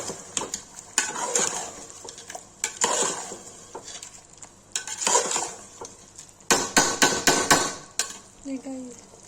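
Tomatoes stirred in a metal pan while cooking chicken changezi curry: loud clanks and scrapes of a spoon against the pan arrive in irregular bursts, separated by quieter stretches of gentle sizzling.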